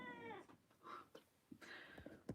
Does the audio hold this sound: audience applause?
no